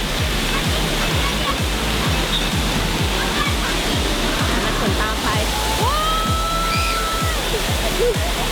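Water pours down from a tipping bucket at a water park in a loud, steady rush, a continuous roar that fills the scene, with indistinct voices of playing children faintly underneath.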